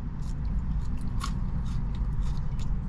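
Crunchy bites and chewing of a crispy McDonald's french fry, close-up crisp crackles over a steady low background rumble, with no talking.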